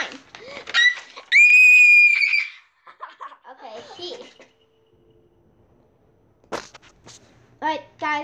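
A child gives a loud, sustained, high-pitched scream at close range, followed by laughing and excited chatter from several kids, a quiet pause, then more shrieky laughter.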